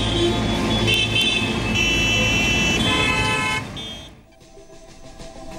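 Loud, overlapping car horns honking over one another in busy Gurugram traffic, sustained for several seconds before the din drops away.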